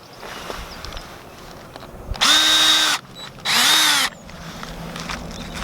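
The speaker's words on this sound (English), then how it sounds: "So I'm just going to start some screws off." A power drill drives screws into wood while building a raised garden bed: two whining bursts of about a second each, each rising as the motor spins up, loud and close over quiet outdoor background.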